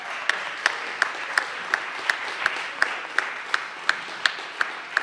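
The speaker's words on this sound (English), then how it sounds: "Let's give another giant round of applause to all the artists" Clapping at a festival opening ceremony for the artists, a steady rhythmic beat of single claps about three per second over a soft crowd bed.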